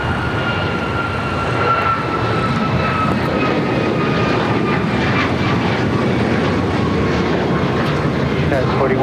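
Airliner taking off from runway 25 Right at LAX: loud, steady broadband jet engine roar with a faint whining tone, heard close and continuous throughout.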